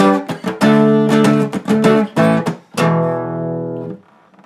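An electric guitar plays the power chords from a song, a loud, close series of clipped staccato stabs followed by a final chord left ringing and fading away.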